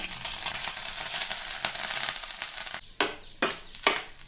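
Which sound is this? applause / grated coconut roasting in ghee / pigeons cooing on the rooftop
grated coconut roasting in ghee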